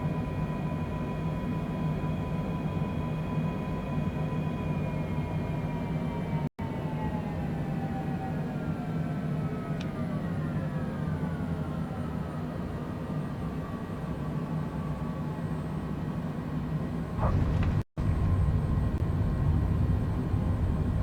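Cessna Citation Longitude flight simulator landing on an ILS approach into Tampa, with a steady loud broadband jet engine and wind roar throughout, falling tones as power winds down, and a brief bump near the end.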